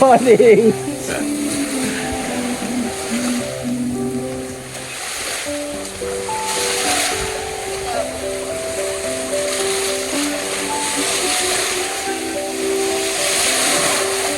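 Steady rushing surf of ocean waves fills the background, with a person talking over it throughout.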